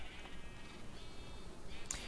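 Sheep bleat faintly in the video game Minecraft, a soft distant bleat rising near the end over a quiet background hiss, with no talking.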